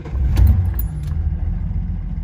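Classic daily-driven car engine starting up after an ATF and engine flush, a low close rumble swelling briefly then settling into a steady idle, with a light metallic jingle near the start.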